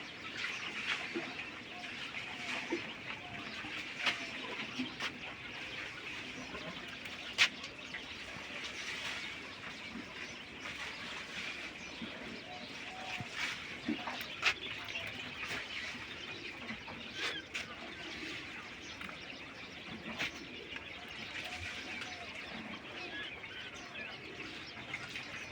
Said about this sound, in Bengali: বন্ধুরা এই সবগুলো রানিং কিংকয়েল।